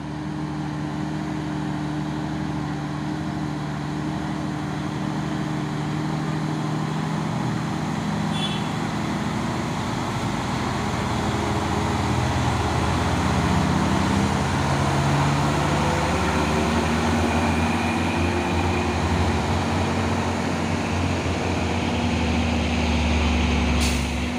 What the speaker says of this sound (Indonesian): Dan ini ada lagi satu nih dump truck Puso Trinton Super Gridnya bogel